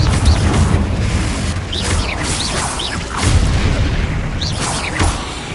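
Fiery spell blasts from the Confringo spell in Hogwarts Legacy go off inside a cave, a dense booming rumble with several whooshing bursts over about five seconds, loud and continuous.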